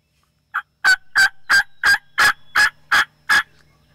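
A lone wild turkey tom gobbles in a field during a spring hunt, a loud, close rattling call repeated about eight times in quick succession with nothing else around it.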